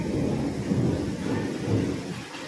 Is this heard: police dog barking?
no